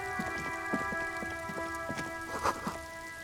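Rain patters steadily on the streets of the video game Disco Elysium, with irregular close drops and splashes. A sustained musical hum plays underneath, and there is no talk.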